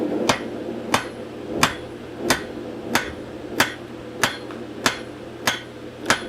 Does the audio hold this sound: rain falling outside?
no